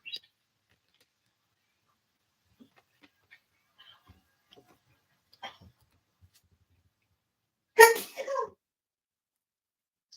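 One sharp, loud sneeze bursts out near the end of a mostly quiet stretch, preceded by faint scattered clicks and small sounds.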